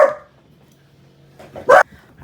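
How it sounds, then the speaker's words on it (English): A dog barks outdoors during lawn care season: a single short bark at the start, then after a pause two quick sharp barks close together, moderately near, with no talk over them. "we're gonna have to just power through the dog barking"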